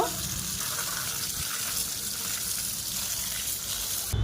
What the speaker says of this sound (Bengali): এবার ধুয়ে নেব।